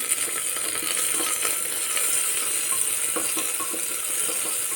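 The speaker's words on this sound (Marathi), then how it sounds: "तर कांदा परतून घेऊया आपण" A small onion sautés in hot oil with a steady, close crackling sizzle that runs unbroken throughout, with faint scattered ticks from the pan.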